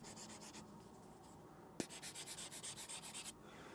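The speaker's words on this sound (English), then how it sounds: "so you can kind of hear that it does sound a lot like graphite on paper" Close, quiet scratching of a stylus pen writing on a tablet screen, with a graphite-on-paper texture: a brief tap, then a run of rhythmic strokes, each a short rasping scrape, heard alone.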